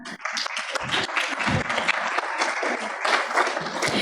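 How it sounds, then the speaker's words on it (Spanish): Sustained audience applause for a panelist at a human-rights-to-water conference, a dense steady wash of clapping throughout with no talk over it. "Un aplauso, por favor"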